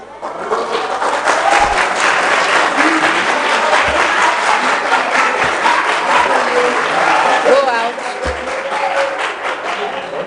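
An audience at a student vetting session applauds loudly and steadily for about ten seconds, a dense wash of clapping that thins slightly toward the end.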